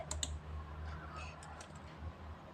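Quiet clicking of computer keys being typed, a few sparse taps spread over a couple of seconds against a low background hum.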